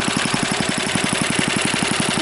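A small engine mounted on a tiny wood splitter runs nearby, a steady, rapid chugging of evenly spaced firing pulses at constant speed.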